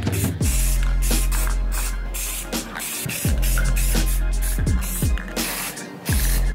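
Spray paint hisses onto a small concrete half pipe for tech decks in short repeated bursts with brief gaps, close and loud, with the can's rattle and clicks between sprays.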